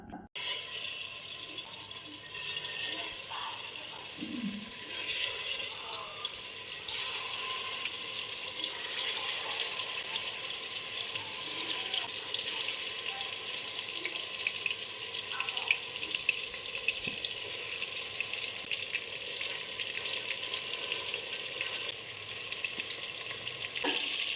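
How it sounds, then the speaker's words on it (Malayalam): Chicken pieces spread in a pan of sunflower oil fry with a steady, bright sizzle and crackle that continues evenly throughout, occasional clinks and stirring sounds breaking through, with no talking. "ആവശ്യത്തിന് എണ്ണ ഒഴിക്കാം സൺഫ്ലവർ ഓയിലാണ് എന്നിട്ട് ചിക്കൻ നിരത്താം"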